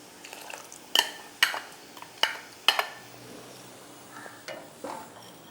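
Soaked broken rice tipped into half-cooked lentils in a pot, heard as a handful of sharp, close clinks and scrapes of a utensil against the pot at irregular intervals, fairly faint overall.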